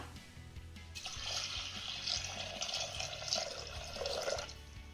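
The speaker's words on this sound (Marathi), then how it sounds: "डाळीच्या तिप्पट पाणी यामध्ये घालूया" Water poured into a pressure cooker holding washed toor and moong dal, heard as a continuous splashing stream starting after a second and running close and fairly loud to the end.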